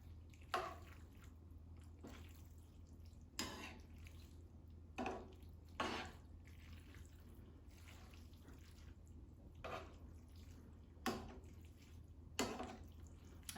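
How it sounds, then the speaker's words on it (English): Pasta puttanesca sauce being stirred together with pasta water, giving soft, wet squelches and drippy slaps at irregular intervals, quiet and close over a low steady hum with no voices. "And I'm gonna give this a mix."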